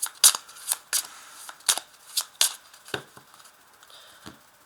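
Tarot cards being cut and shuffled by hand, a series of crisp riffling snaps and slaps in an irregular rhythm, close and clear with quiet gaps between them and no talking.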